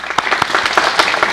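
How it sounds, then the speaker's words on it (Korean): A studio audience on a Korean television talk show applauds to welcome a guest, a brief burst of dense, steady clapping, close and loud, with no talk over it. "박수로 맞이해 주십시오"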